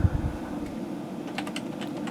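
A key code is typed on a computer keyboard beside a Gateway 2000 486 PC running Windows 95 setup, with scattered light key clicks over a steady hum of machine noise.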